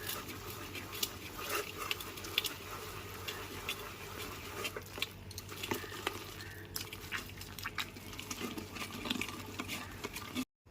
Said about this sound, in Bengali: এবার তালের আটিগুলোকে ঠিক এইরকম করে ঘষে নিতে হবে অল্প অল্প জল দেব আর আটিটাকে এরকম করে ঘষতে হবে